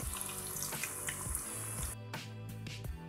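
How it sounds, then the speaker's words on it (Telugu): Potato pieces fry in hot oil with a quiet, close sizzle and bubbling, broken by a few clinks and scraping stirs. "బంగాళాదుంప ఉంది కదా, వాటిని కూడా ఫ్రై చేసుకుందాం"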